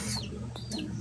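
A chicken gives a couple of short, close clucks in quick succession within about a second.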